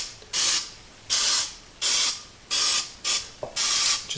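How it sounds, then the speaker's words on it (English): Oil sprayed onto chicken wings in an air fryer basket, five short bursty hisses in a steady rhythm, close and fairly loud with brief gaps between them. "Just go ahead and give it a spritz of oil"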